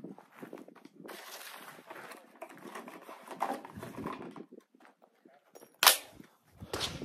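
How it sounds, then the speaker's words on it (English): Shells are loaded one by one into a Citadel Boss Hog 12 gauge shotgun, making soft, sparse clicks and metallic snaps close by in a quiet setting, with one sharper clack near the end. "we're gonna put 8 more rounds in this shotgun and show you that it's holding that many"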